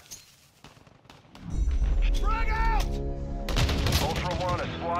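Dense gunfire in a Call of Duty DMZ firefight, loud sustained bursts starting after a quieter moment, mixed with impacts and voices talking over the shooting.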